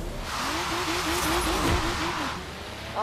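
A car engine in the video game Forza Horizon 3 revs with a wavering, rising and falling tone, tires squealing as it skids, loud and close, ending with a sharp higher whine.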